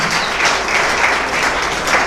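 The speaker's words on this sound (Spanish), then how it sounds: "Dele palmas al Señor" A church congregation claps together loudly and steadily, a dense sustained round of applause filling the room.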